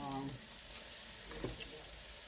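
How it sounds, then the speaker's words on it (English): Quarter stick of butter melting in a skillet, a steady soft sizzle and hiss over a brief stretch, with a faint voice at the start. "Fourth of a stick of butter. Right there like that, like so. Let that melt down real good"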